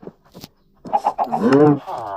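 A Minecraft chicken clucks in a quick run of short, throaty calls, with a voice speaking underneath and some soft clicks at the start.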